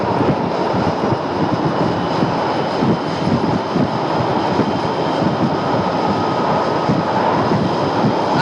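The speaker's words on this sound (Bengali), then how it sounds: "আমরা কিন্তু প্রায় মাঝামাঝি চলে এসেছি এই রেল সেতুটির। আমরা এই মুহূর্তে নদী পার হচ্ছি।" A train rumbles steadily across the Jamuna river rail bridge, a loud, continuous rolling roar of wheels and carriages close by, with no break throughout.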